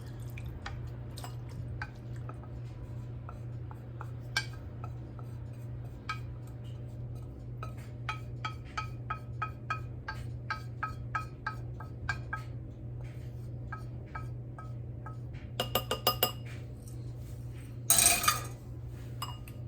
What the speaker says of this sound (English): I'm gonna press on it with the spoon just just to make sure I get as much of the oil out as I can.